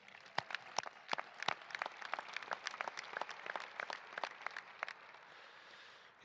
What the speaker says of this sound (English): Please give yourselves one more round of applause.